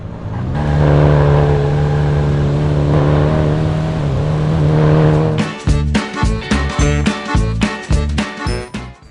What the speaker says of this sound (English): It's a lot of fun to pull off screechy handbrake skids around corners, to trade paint with nearby racers